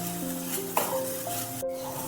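Stirring in a pan over a low simmering gas flame, a soft steady sizzle with a faint scrape or two during a short stretch, and no voices.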